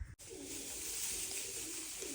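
Soft cooing of pigeons nesting in a pipe rises and falls over a steady background hiss, faint and somewhat distant, with no voices.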